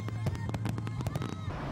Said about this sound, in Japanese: 夏の風物詩花火大会も3年ぶりに開催されました。